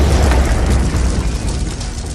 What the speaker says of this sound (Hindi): उनकी शक्तियों से विस्फोट हो जाता है